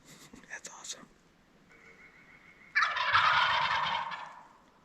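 Wild turkeys gobble from the roost on an opening-morning spring hunt, first in short bursts under quiet talk and then in a loud, full gobbling chorus of two birds together.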